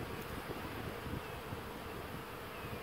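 Dense, continuous buzzing of many honeybees up close at a pollen feeder during the goldenrod flow, a steady droning hum with light wind noise underneath.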